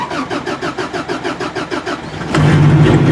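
A Chrysler Firepower engine in cold weather cranks with a steady rhythmic churning for about two seconds, then catches and fires into a loud, rough idle with a low hum, close and alone without talk.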